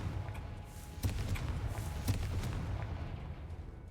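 Confringo explosion spells go off in Hogwarts Legacy as a few faint, distant thuds and booms, two more distinct than the rest, over a low rumbling background.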